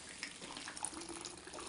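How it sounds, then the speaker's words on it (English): Hot water poured carefully through a funnel into an upside-down American Girl doll head wrapped in a towel, a faint soft continuous trickle and splash lasting under two seconds. "And go grab my water. I'm going to pour it in,"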